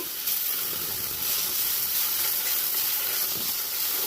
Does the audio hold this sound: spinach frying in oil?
yes